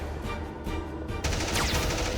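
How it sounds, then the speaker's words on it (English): Twin heavy machine guns on a Warhammer 40k battle tank, roaring in a dense continuous burst of rapid fire that swells louder partway through, with no voices. "Twin heavy machine guns rake over the beast's hide and chunks of chitin are blown clean off by the demolition cannon"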